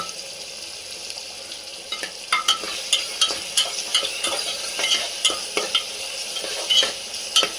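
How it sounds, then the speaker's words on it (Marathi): Potato and green pea bhaji fries in a pan with a constant sizzle, broken from about two seconds on by regular scraping strokes of stirring, close and clear with no talk. "ह्याला चांगलं फ्राय होऊन द्यायचं"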